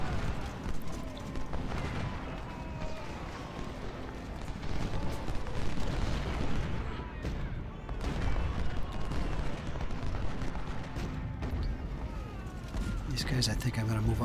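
Cannon and artillery fire from a Civil War battle in the strategy game Ultimate General: Civil War, First Bull Run, with booming shots and crackling volleys continuing steadily throughout, mixed with game battle noise.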